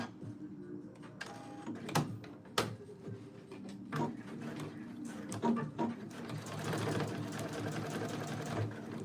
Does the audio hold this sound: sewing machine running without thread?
yes